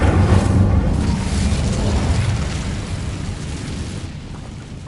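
Incendio fire spell cast in the video game Hogwarts Legacy, a loud whooshing burst of flame with deep rumble that swells at once and slowly fades over several seconds.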